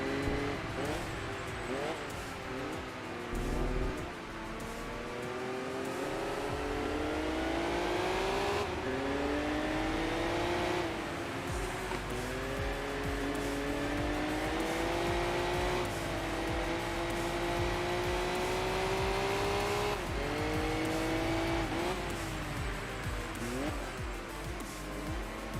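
A Mazda Miata revs and races in the video game Enthusia, its engine note rising and falling steadily through gear changes across the whole stretch, loud and continuous, with a voice talking over it at times.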